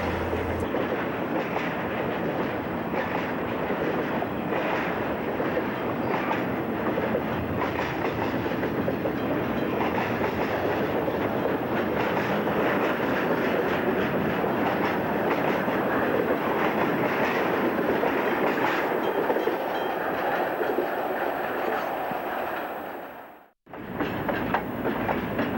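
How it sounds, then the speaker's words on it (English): Freight train with wood chip cars rolling past in snow at the Millinocket yard, a long loud continuous rumble with wheel clatter that cuts off abruptly near the end. "At the Millinocket yard, we catch a train with wood chip cars."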